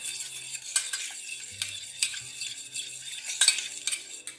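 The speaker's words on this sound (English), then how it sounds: "we want this off the heat at this point and stir" A spoon stirs an egg yolk mixture in a pan taken off the heat, giving repeated light metallic clinks and scrapes in an irregular rhythm, close up with no voices.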